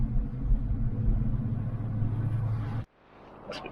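A BMW E92 M3's engine runs with a deep, steady low rumble from close by, then cuts off abruptly near the end, leaving a quieter background and a faint brief knock.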